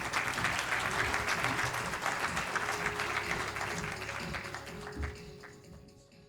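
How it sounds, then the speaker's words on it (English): Audience applause for the ambassador of India at a forum event, dense and sustained clapping from a large crowd that gradually thins and fades toward the end. "Applause for the ambassador of the great nation that is India"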